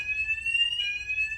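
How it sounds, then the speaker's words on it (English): Building fire alarm sounding during a care home evacuation, a steady high electronic tone with a brief shift partway through, continuous and fairly loud with a low rumble underneath. "So the fire alarm has been activated."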